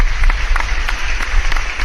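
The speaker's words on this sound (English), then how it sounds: "Let me give you guys a applause." Short burst of applause played during a live Q&A stream, loud, close and unvaried, with a steady low hum beneath it.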